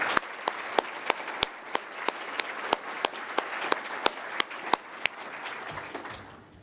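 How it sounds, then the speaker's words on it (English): A conference audience applauds a new board chair, a soft patter of clapping with sharp, evenly spaced individual claps standing out close by, tapering off at the end. "Please, another round of applause for my friend and your new board chair, Karen Church."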